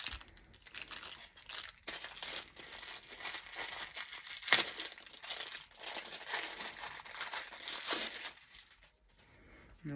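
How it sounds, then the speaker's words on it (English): Wrappers crinkle and crumple steadily and close by, dense papery rustling with a few sharper crackles, fairly quiet and with no talking. "I worry about the crinkling of the wrappers"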